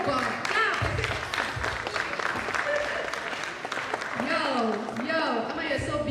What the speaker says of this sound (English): Can you clap for Munene as he joins us?